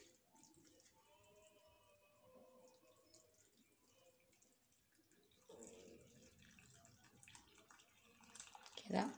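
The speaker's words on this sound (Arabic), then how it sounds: "وننزل كده بقى المية السخنة" Hot water from a kettle is poured over qamar al-din apricot paste, a soft liquid splash entering midway and swelling louder at the end, following quiet talking.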